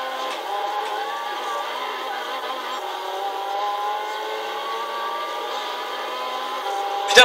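Race car engine in Gran Turismo 6 during a B-Spec 24-minute Le Mans race, a sustained high whine with gently shifting pitch, steady and fairly loud throughout, with a brief burst at the very end; no talking.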